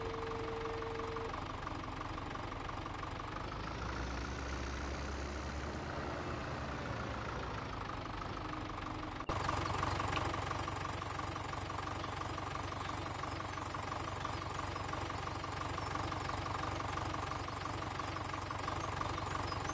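A tractor engine idles in Farming Simulator 17, a steady low rumble with a faint knocking vibration, and a brief change in tone partway through as the load shifts.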